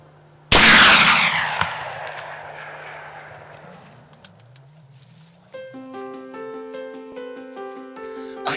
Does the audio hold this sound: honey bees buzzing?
no